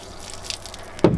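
Water from a camper van's tank is dumped straight onto the ground: a sudden, close splash near the end after quiet background.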